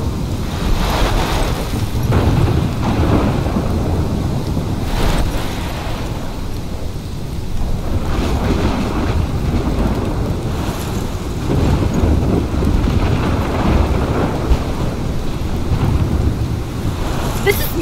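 Thunderstorm in the video game Life is Strange: a continuous roar of wind and heavy rain with low rolling rumbles that swell and fade, loud and unbroken, with no voices.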